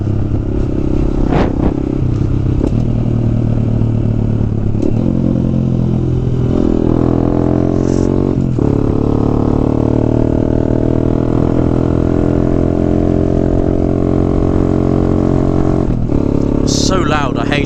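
A small Honda Grom motorcycle engine runs loud and close, its exhaust droning and revving in waves, with clatter and occasional voices underneath.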